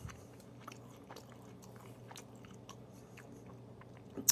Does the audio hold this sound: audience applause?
no